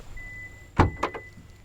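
Warning chimes from a 2023 Hyundai Elantra parked with its trunk open, sounding as someone walks past the rear door: a short run of three electronic tones, the first loudest, close by in a quiet setting.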